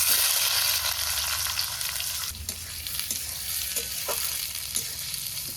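Chopped onion drops into hot oil in a kadai for Bengali chicken kosha, giving a loud, steady sizzle and crackle with a few sharper spits and stirring scrapes, close by and with no talking.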